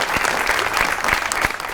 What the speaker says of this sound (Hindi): बब्बर शेर सुहेल अहमद के लिए बहुत सी ताली